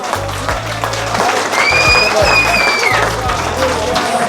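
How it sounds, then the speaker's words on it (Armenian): Party guests at a celebration for a soldier's homecoming clap together under a busy room full of voices, with music thumping along beneath the applause. "Ծափեր տվեք զինվորի պապան է գալիս։"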